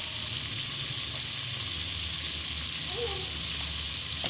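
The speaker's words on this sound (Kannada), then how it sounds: "ಸ್ವಲ್ಪ ಈರುಳ್ಳಿಗೆ ಒಂದು ಸ್ವಲ್ಪ ಉಪ್ಪು ಹಾಕೋತೀನಿ. ಅದು ಸ್ವಲ್ಪ ಬೇಗ ಚೆನ್ನಾಗಿ ಫ್ರೈ ಆಗುತ್ತೆ" Onions salted and frying in a pan make a dense, even sizzle that holds steady and close throughout, with no talk.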